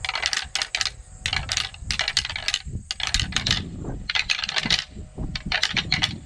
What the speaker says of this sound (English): And I'll do some more rattling here.